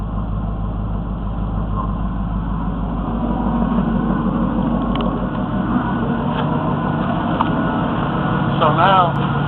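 A vehicle engine idling steadily nearby, a low continuous rumble that holds throughout while a person talks over it.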